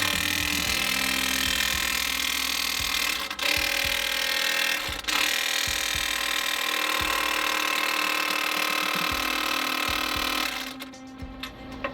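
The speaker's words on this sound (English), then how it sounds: "It's an electric impact. It's half-inch drive" An electric half-inch drive impact wrench works a bolt on a Kenworth T660 truck during a fender installation, a steady whine broken by sharp repeated hammering bursts, close and loud, ending abruptly.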